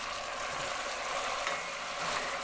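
Steady, close sizzling and hissing as the first scoop of stock hits toasting risotto rice in a hot pan, a dense bubbling crackle that holds evenly throughout with no talking.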